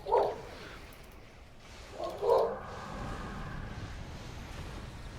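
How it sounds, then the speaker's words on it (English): A dog barks at a squirrel in a front window, two short separate barks, one at the start and one after a pause, fairly close, with quiet room noise between them. "And bark at it for a while"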